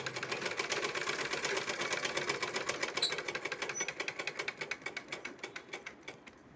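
Sewing machine stitching a fall onto a cut-work saree, a fast steady run of needle clatter that slows into separate stitches near the end, heard alone and close.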